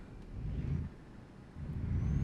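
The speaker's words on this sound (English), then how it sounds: "Let's get the engine on." A truck engine starts up in Euro Truck Simulator 2, a low rumbling crank that dips briefly, then settles into a steady, deeper idle.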